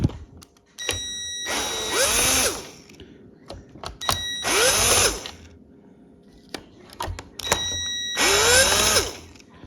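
A power driver whirs in three short bursts, each a couple of seconds long with a rising whine, backing out T20 Torx screws on a 97-03 Ford F150, with quiet clicks and handling noises between.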